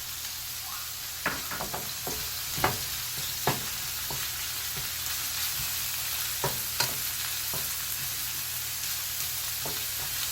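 Egg fried rice stir-fried in a wok with the Holy Trinity aromatics: a constant sizzling hiss punctuated by sharp metallic scrapes and knocks of the spatula at irregular intervals.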